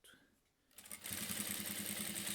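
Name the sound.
sewing machine backstitching bias binding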